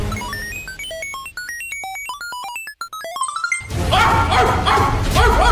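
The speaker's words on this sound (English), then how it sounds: "What the fuck? A dog?" A dog barking loudly and excitedly in a chaotic burst, following a run of bright rising and falling synthesized tones, with harsh noisy yips filling the last seconds.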